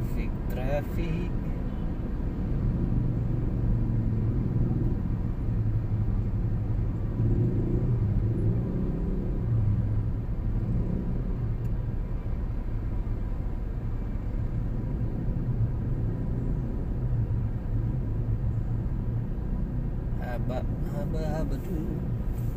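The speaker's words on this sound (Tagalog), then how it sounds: "Traffic." Slow road traffic between Taguig and Alabang, Muntinlupa: a continuous low rumble of idling and creeping vehicles, with engine hum throughout and a faint voice near the end.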